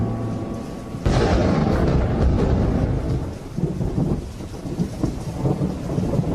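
A thunderstorm sound effect for a radio horror story: a sudden loud thunder crash breaks in, then heavy steady rain pours with rolling rumbles underneath, close and full.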